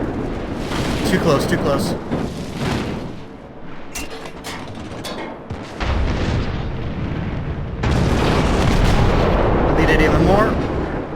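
Heavy naval gun salvos from the cruiser St. Louis in the game World of Warships: loud rolling booms in repeated volleys. A voice talks over the firing.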